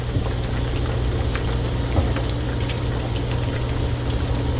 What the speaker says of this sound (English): They do not have to fry long just because I sliced them so thin.